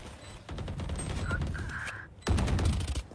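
Rapid gunfire in the video game Valorant, a dense burst of automatic shots that fills most of the moment and comes back louder near the end.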